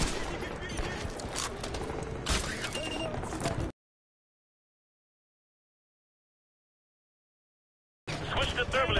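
Dense bursts of rapid gunfire and shouted voices fill a video game firefight, loud and continuous, then cut to silence for several seconds before the shooting resumes.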